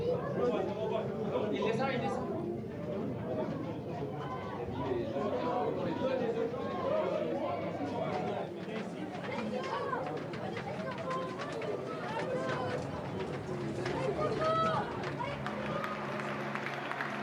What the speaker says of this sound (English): The Stade du Rouderou crowd rises to welcome their heroes, Guingamp, and today's opponents, Lyon.